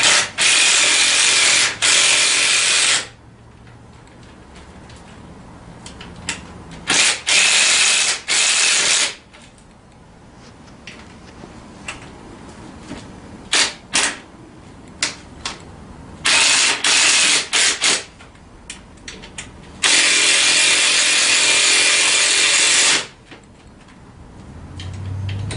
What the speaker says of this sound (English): And then I can go ahead and tighten these 4 screws down.